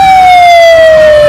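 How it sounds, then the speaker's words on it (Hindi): A fire truck siren wails loud and close at a fire scene, a single sustained tone slowly falling in pitch for over a second, dominating everything else with no talking. "कुछ देर बाद फायर ब्रिगेड की गाड़ी वहां पहुंच गई।"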